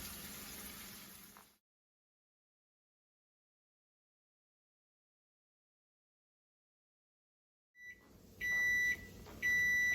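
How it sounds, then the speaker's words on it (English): A kitchen timer goes off during a Japanese stir fry with onions softening in the pan. After a long silence, a few bright electronic beeps sound close and loud near the end. "The timer just went off, so we're ready to add our zucchini."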